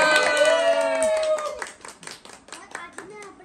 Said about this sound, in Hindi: सारी एक बारी तालियां बजाओ